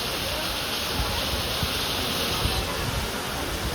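Hailstones pelt a metal sheet roof during heavy rain, making a dense, continuous roaring patter that stays steady and loud throughout the short stretch.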